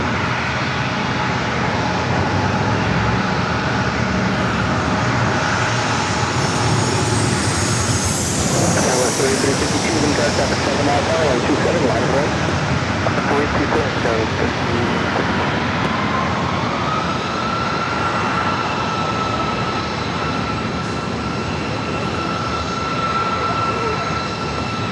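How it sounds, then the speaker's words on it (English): An Alaska SkyWest Embraer E-jet airliner at San Diego airport gives off a steady, loud roar of jet engines that swells with a rising whine midway and then holds a droning hum, heard from the ground outdoors. "A couple of E-jets, Alaska SkyWest, flight 3352, heading to SFO"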